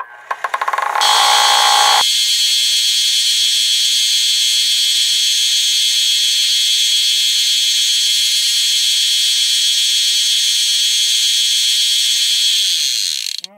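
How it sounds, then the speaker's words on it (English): A belt sander tapers a rifle buttstock cover for an 1866 Yellow Boy Winchester, starting up into a loud, steady abrasive roar that runs continuously before cutting off at the end. "I got you over here at the belt sander. We're just going to clean up, like I said, just taper this a little bit."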